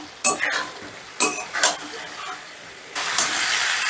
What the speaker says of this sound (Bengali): এবার আলু আর ওলকচুটাও মশলার সাথে একটু ভালো করে মিশিয়ে নেব।